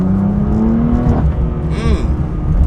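BMW M2 Competition engine and exhaust, a loud close drone that climbs steadily in pitch as it revs, then breaks off into a lower rumble with a brief whooshing sweep.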